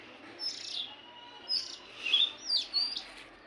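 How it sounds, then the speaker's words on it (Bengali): Birds chirp and tweet in a spring home garden with a mango tree in blossom, several bright bursts of song coming and going over a quiet background, no voices. "বসন্ত এসে গেছে, পাখির ডাক শুনে বলতেছি"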